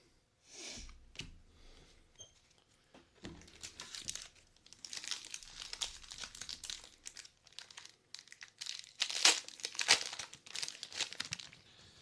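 Close, crackly crinkling of Lorcana card booster pack wrappers in bursts, with sharp rustles and tearing sounds that grow busier toward the end.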